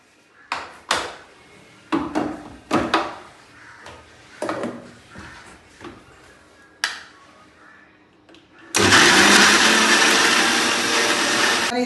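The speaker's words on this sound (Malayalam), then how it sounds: "ഇതെല്ലാം കൂടിയിട്ട് നന്നായി അരക്കിട്ടു" A mixer grinder grinds coriander powder and turmeric into a paste for a Kerala fish curry. Several sharp knocks and lid clatters come first, then the motor roars loud and steady, continuing to the end.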